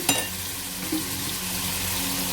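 Chopped tomato drops into onions frying in a pan for chicken curry, a brief splash followed by a steady, close sizzle that runs on alone.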